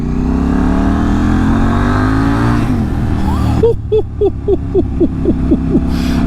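A loud, raw decat exhaust on a KTM Duke 790 motorcycle revs up with a rising drone, then barks through a quick series of sharp throttle blips and pops, close by.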